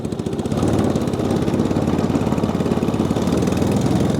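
The engine of a Massimo Mini Jeep runs close and loud as the gas is pressed, a rapid, even chugging putter with no pauses.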